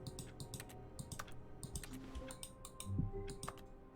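Computer keyboard and mouse clicks tapped out at an irregular rhythm during Stanley Parable play, close and fairly loud over a steady low hum, with no speech.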